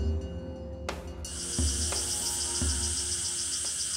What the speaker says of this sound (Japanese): 沖縄の限られた地域にのみ生息するクロイワゼミ。